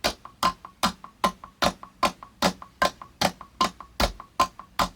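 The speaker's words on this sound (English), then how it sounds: "Let me just put it with the click so you guys can hear it." A metronome click track playing eighth notes, with steady alternating sharp accented ticks and softer in-between clicks, close and dry over a faint background hum.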